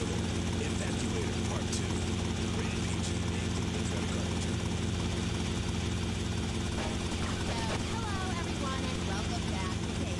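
A helicopter in the video game GTA Vice City Definitive Edition gives a loud, constant rotor-and-engine drone that fills the whole stretch, mixed with scattered game sound effects.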